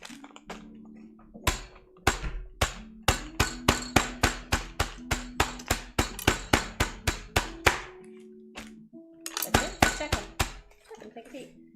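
Lemongrass stalks pounded with the flat side of a knife blade on a board for a Vietnamese shrimp vermicelli bowl: about two dozen sharp, steady knocks close by, with a faint voice or hum underneath.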